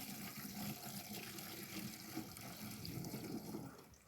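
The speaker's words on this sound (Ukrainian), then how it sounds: "Я зараз готую на 10 літрів води, трішечки водички налью." Water runs into a 16-litre garden sprayer tank while a spring orchard spray is prepared, a soft, continuous pouring that holds steady and eases off at the end, with no talking.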